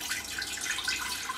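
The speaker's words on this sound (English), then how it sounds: "I'm going to add in some stock to my big pot." Chicken stock poured into a big soup pot over high heat, a steady, close liquid pour with a continuous splashing rush and no talking.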